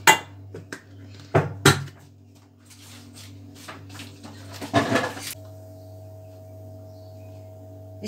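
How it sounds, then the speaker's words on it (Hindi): Herbal hair dye ingredients, three of them, being ground in a kitchen, with clattering metal and scraping knocks in uneven bursts, followed by a steady electric whir near the end. "और अब हम इन तीनों चीज़ों को पीस लेंगे।"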